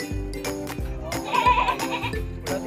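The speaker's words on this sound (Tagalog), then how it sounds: "Ang daming kambing." Goats bleating in a neighborhood livestock shed, several overlapping wavering calls repeating over a steady farmyard background, fairly close and moderately loud.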